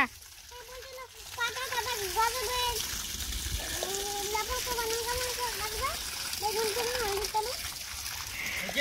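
Water runs steadily while something is being washed, a continuous splashing hiss with voices talking over it throughout.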